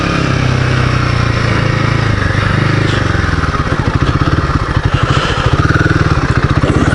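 A Royal Enfield Himalayan 450 motorcycle ridden off-road in first gear, its engine loud and close with a steady throbbing pulse and rough clattering, gaining rhythm as the bike pulls along.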